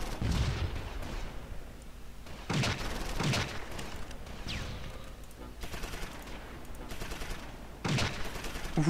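Repeated bursts of rifle gunfire and booms, including a 75 mm cannon, crack out at irregular intervals over a steady background rumble in the battle game Close Combat, Meuse 1940.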